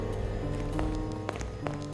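Soft footsteps tap along a hospital floor in a horror video game, several light, evenly paced steps under a steady droning background hum and game music.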